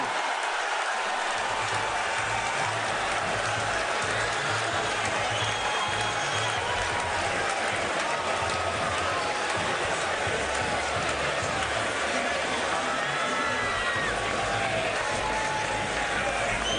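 A large arena crowd at the 2009 NBA Draft applauds and cheers continuously after the sixth pick, Jonny Flynn to the Minnesota Timberwolves, with a steady roar of mixed voices throughout.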